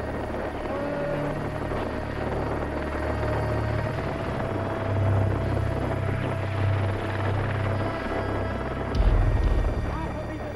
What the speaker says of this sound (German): den Helikopter in der dünnen Luft auf 6400 Meter ruhig zu halten